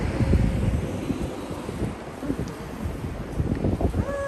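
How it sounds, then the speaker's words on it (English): Strong wind buffets the microphone aboard a river cruise boat on the Oyoko River in Tokyo during cherry blossom season, a loud, uneven gusting rumble that surges and eases throughout with no talk. "The wind has picked up."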